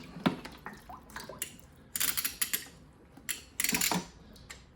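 A 1/2 inch copper water pipe is cut while water drips out, heard as close, irregular metallic clicks and scraping bursts mixed with dripping, with no talking.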